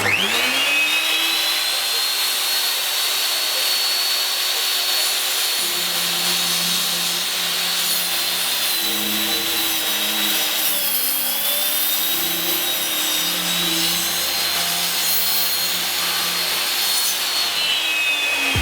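A Ronix miter saw with a 250 mm blade runs at a loud, steady high-pitched whine while cutting through a 100x100 wooden beam, the tone dipping slightly under load for about eighteen seconds without talk.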